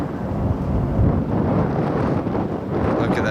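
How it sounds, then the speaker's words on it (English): Strong wind gusts buffet the microphone outdoors during a wildfire viewing near Boston Bar, a steady loud roaring rumble with no clear speech. "And it's very windy right now."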